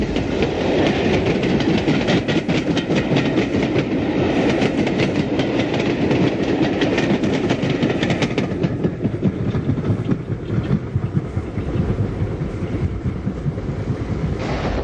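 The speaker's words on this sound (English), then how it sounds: "a Liverpool to Cardiff Express, hauled by Black 5 44683, heads towards Whitchurch" A Black 5 steam locomotive, number 44683, hauls a Liverpool to Cardiff express toward Whitchurch in 1964. The train rumbles past steadily with rhythmic wheel clatter and wind buffeting the microphone. There is no talking.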